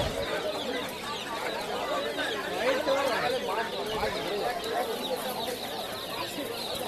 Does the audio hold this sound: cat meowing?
no